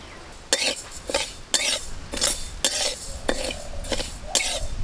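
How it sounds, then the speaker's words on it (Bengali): Moong dal is roasted in a pan while a spoon stirs it, scraping in about eight rhythmic, close strokes over a low background hiss. "মুগের ডালটাও ভেজে নিচ্ছি।"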